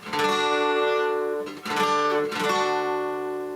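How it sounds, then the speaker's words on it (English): A strummed guitar chord, an A2 shape with an added note on the 2nd string, rings out, struck three times in a row with each strum sustaining, played alone and close. "Now here's a new chord for you. It sounds like this."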